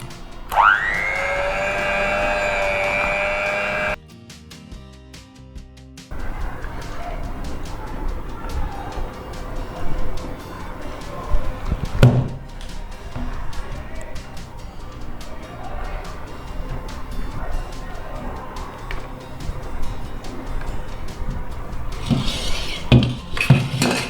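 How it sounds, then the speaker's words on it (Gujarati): Eggless, sugar-free lady finger batter is mixed in a bowl after vanilla essence goes in. A steady tone plays first, then a short pause, then continuous scraping and light clinking of a utensil against the bowl until the end. "ફરીથી આને મિક્સ કરી લઈશું."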